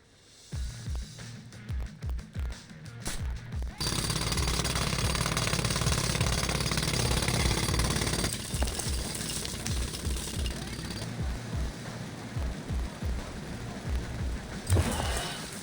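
A drill hammering a hole beneath a treatment facility reservoir in TMNT: Mutants Unleashed, with loud rapid pounding in bursts, a long continuous grinding stretch, and more choppy bursts after, with voices talking at times.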